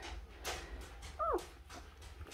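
A litter of newborn Noble Asian Bear puppies gives a single faint, brief whimper rising and falling over broadband background noise, with muffled rustling around it.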